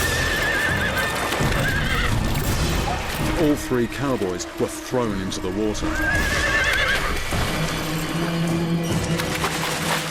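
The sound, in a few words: horses neighing as they wade into a river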